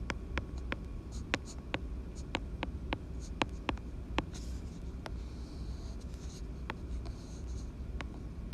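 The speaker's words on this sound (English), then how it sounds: "I will write the answer down for you." Pen or marker strokes on a surface while writing out a math answer, a steady series of short, crisp scratches and taps over a low background hum.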